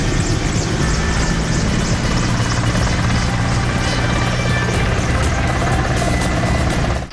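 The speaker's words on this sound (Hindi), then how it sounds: "फिर वायुसेना के हेलीकॉप्टर ने फूलों की बारिश की" An Indian Air Force helicopter flies low over a hospital, its rotor producing a loud, continuous, throbbing roar that fills the entire stretch without a break.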